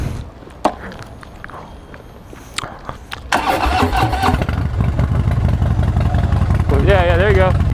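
A 2016 Harley-Davidson Fat Bob Dyna with a six-speed 103 motor cranks and fires into a loud, deep, steady idle and ride-off rumble close by, after a few seconds of quiet clicks and handling noises.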